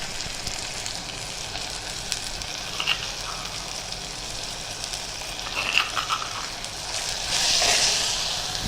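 Soaked tamarind dropped into a hot pan for ridge gourd chutney gives a steady close sizzle and frying hiss, with a few louder crackles and a brief swell near the end.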